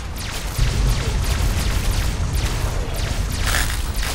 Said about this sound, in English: Man, that is a lot of explosions.